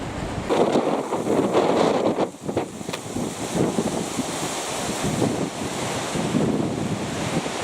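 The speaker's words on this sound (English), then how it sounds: "It's very windy, isn't it?" Strong wind gusts from Hurricane Ophelia in St. Helens roar steadily across the microphone, with broad rushing noise that swells and dips, no voices present.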